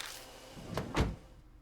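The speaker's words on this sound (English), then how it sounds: "Once he's out of sight, I get into the car." A car door shutting in the Death Mark horror video game: a couple of quick muffled thumps and latch clicks, close and fairly quiet, with no talk.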